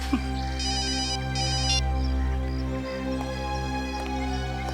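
An electronic phone ringtone plays in short repeating bursts over a steady low hum and background tones.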